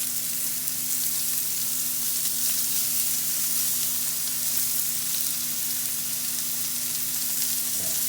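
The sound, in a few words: burger sizzling in pan while being basted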